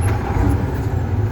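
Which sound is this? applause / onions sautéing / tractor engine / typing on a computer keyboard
tractor engine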